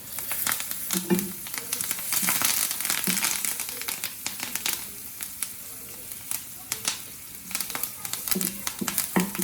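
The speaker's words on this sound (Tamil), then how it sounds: "தொக்கு ரெசிபிக்கு நல்லா ஃப்ரை வச்சு கொஞ்சம் கறி லீஃப் ஆட் பண்ணுறேன்" Curry leaves and onions frying in a pan for vanjaram dried-fish thokku, with a crackly, popping sizzle in uneven bursts and spatters that rise and fall close by.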